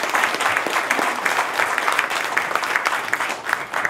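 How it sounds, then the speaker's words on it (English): A room of listeners at a talk on the wellness of Alaska's First People gives the speaker a big round of applause, loud, close and continuous, with sharp individual claps standing out in the crowd. "Let's give a big round of applause for Teisha"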